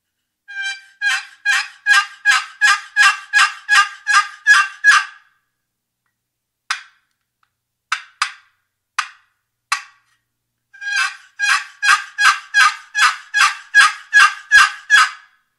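A Primos Box Cutter single-sided turkey box call plays loud, close runs of rapid raspy yelps, then several isolated clucks, then another long series of yelps, alone with no talk.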